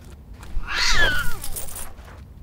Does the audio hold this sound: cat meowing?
yes